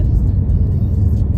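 A car rolls over a bumpy desert road toward the Valley of Fire near Las Vegas, producing a steady low rumble and road noise from inside the cabin, with no talking.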